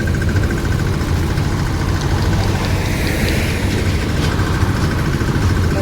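A farm tractor engine idles nearby in a continuous, loud, low rumble that stays even throughout, with no talk over it.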